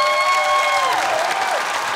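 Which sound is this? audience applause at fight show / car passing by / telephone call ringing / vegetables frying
audience applause at fight show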